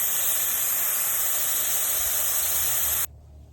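Air hissing steadily and loudly from an off-road tire valve as it deflates toward 15 PSI, a continuous broadband rush that stops abruptly near the end, leaving near silence.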